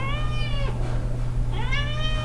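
A friendly, talkative male cat gives two drawn-out meows close by, each rich and tonal, with a steady low hum underneath and a short pause between calls.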